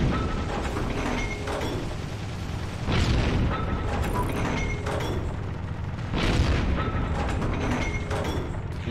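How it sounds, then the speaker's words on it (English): Friendly tank firing in Heroes and Generals beside a rumbling, clanking armored vehicle engine, with heavy booming shots around 3 and 6 seconds over the steady mechanical drone. "There's a friendly tank shooting."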